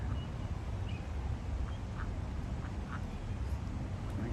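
A mother duck gives soft, scattered quacks near her ducklings outdoors, faint over steady low background noise.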